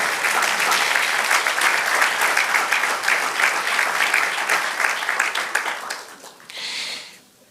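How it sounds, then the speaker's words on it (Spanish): A church congregation bursts into loud, sustained applause in praise of God, dense clapping filling the room for several seconds before a brief pause and a shorter final burst that fades out. "Dale aplauso al Señor."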